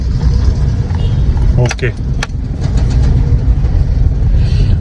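Road traffic jam on the street outside a house, a continuous loud rumble of vehicle engines with a brief rattle midway and someone talking over it.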